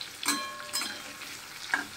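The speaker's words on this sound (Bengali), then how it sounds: "আমটা একটু ভাজা ভাজা হোক" Mango pieces fry in a pan on a home kitchen stove, faint sizzling with three soft stirring scrapes spaced out over a quiet background, no voices.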